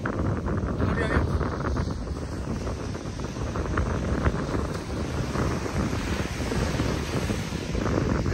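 Sea waves on a beach during a storm, heard as a constant broadband roar of surf. Heavy wind buffets the microphone throughout, steady and fairly loud.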